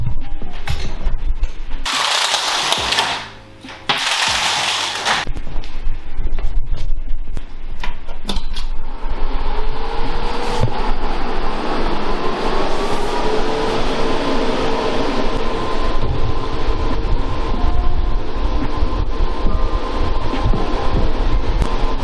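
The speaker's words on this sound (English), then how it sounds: "So as you can hear, it's super loud in here. This is a GPU miner." A GPU crypto mining rig with six graphics cards runs loudly in a small room, giving a dense, constant whirring roar of fans with faint steady tones, briefly interrupted by a few bursts of noise early on, and no voices.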